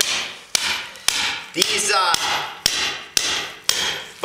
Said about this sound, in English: So I'm gonna hammer a slab of this off and give it to her